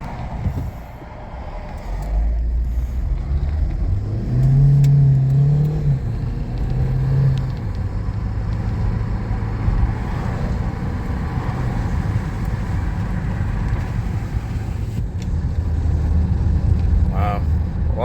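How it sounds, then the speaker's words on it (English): A 2016 Ford Flex with a 2.0L EcoBoost engine accelerates on a test drive after repair, the engine note climbing through a strong pull, then settling into steady cruising with road noise. "I'm gonna drive this thing and just confirm that it's fixed."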